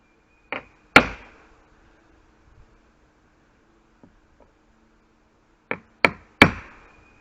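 A hammer drives a nail into wooden deck railing in sharp, ringing blows: two strikes, a long pause with faint taps, then three more in quick succession, close and loud with no talking.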